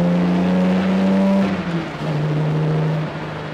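A 1967 Austin Healey 3000 MkII sports car being driven, its engine a loud, close drone that holds steady, dips briefly as the note drops, then settles at a lower pitch.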